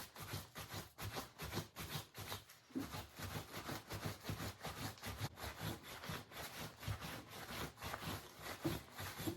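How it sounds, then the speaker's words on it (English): A clean cotton rag rubs and drags briskly over milk-painted wooden furniture to buff it, a close, quiet, continuous scrubbing swish in quick repeated strokes, alone without speech. "you take a clean cotton rag and you start to just hit and drag. And start to buff your piece."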